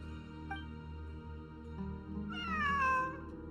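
A cat meows in a fantasy adventure game, the call rising then sliding downward in a drawn-out tone late in the clip, heard over a steady layer of ambient game music.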